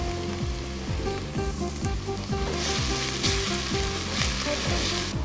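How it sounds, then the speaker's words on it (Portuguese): Chopped garlic frying with onion in a hot pan, a loud continuous sizzle with rhythmic scraping as the pan is stirred, no voices. "Vou acrescentar então um pouco de alho."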